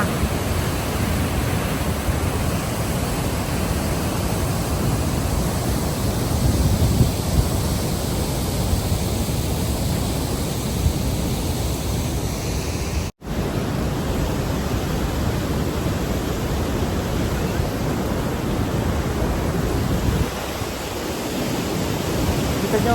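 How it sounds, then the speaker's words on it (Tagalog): A strong river current rushes in a dense, constant roar that stays loud and unbroken apart from a momentary dropout midway, with no talking. "Ang lakas ng agos, ang ganda."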